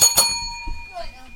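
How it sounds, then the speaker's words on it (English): A bell is rung once during a live indoor broadcast, giving a bright, sustained ringing tone that slowly fades while voices talk over it. "Ring the bell."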